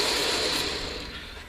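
A continuous aerosol spray hisses steadily into a JL Audio 12W6 subwoofer cone where it joins the spider during a recone repair, close and fairly loud before tapering slightly at the end.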